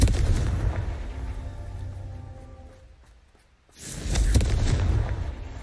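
Confringo fire-blast spells in the Hogwarts Legacy video game erupt as heavy, rumbling booms. A string of blasts fades into a brief lull before another loud explosion bursts in.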